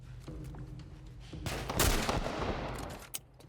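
A burst of loud gunfire in the video game The Last of Us erupts midway, dense overlapping shots over a steady background hum, then cuts off with a final sharp crack.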